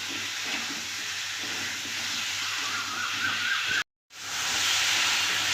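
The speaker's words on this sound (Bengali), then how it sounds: "এবার আলুটা দিয়ে খুব ভালো করে কষিয়ে নেব।" Potatoes frying in spice paste in a pan, a loud continuous sizzle and hiss that cuts out briefly and then returns at full strength.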